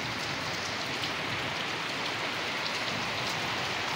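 Rain pours onto a terrace garden, a dense, loud, unbroken hiss of drops striking surfaces, close and steady throughout.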